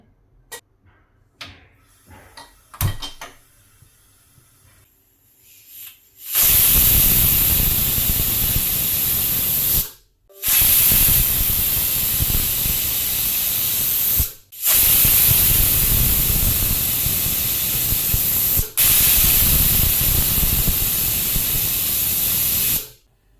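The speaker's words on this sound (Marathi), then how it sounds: "कुकरला लावून 4 शिट्टी करून घेऊया." A pressure cooker cooking rice lets out four long, loud bursts of hissing steam whistle, each cut off by a brief pause, after some faint clatter.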